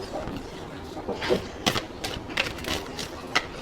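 Oracle cards being shuffled by hand, giving a run of soft papery riffles and light slaps in irregular bursts, close and fairly quiet with no talk over them.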